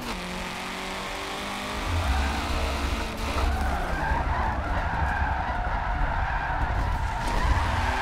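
Nissan S13 with an SR20 engine in Forza Motorsport 7 drifts with sustained tyre skidding over a droning engine, the slide growing louder after a couple of seconds and holding steady.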